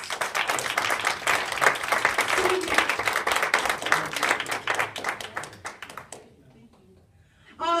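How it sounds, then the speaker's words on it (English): Students at a university student government presidential debate applaud the candidates with a loud, crackling burst of claps lasting several seconds, then it cuts to near silence before a voice starts speaking. "Big round of applause for the candidates."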